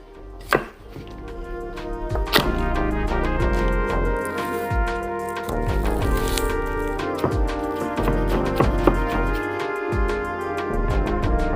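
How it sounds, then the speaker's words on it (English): A knife dicing ingredients for beef tartare on a cutting board, rapid steady chopping taps close and crisp, with a few heavier knocks, no talking. "So all I'm doing is dicing these ingredients."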